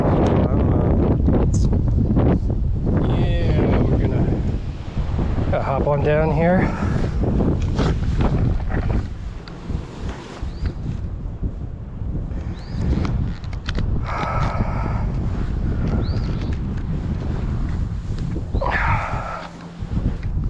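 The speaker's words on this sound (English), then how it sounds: "Oh, and it's windy now." Heavy wind buffets the microphone throughout with a loud low rumble on a rocky mountain in Narvon, Pennsylvania, while people talk intermittently underneath.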